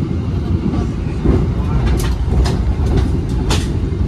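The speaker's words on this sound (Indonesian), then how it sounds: "terdengar suara lokomotif ya, klakson dan suara deru mesinnya" The KA Ijen Ekspres train rumbles past Grati station in Indonesia at speed with a loud, steady low roar and rattling, with a few sharp bursts of higher noise like wheels clacking over rail joints.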